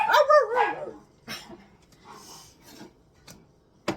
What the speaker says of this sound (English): Little freaking hound dog.